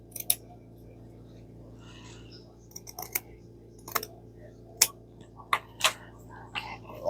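Scissors snip through burlap in a series of sharp, separate cuts spaced irregularly, close and crisp over a low steady hum, with faint speech in places.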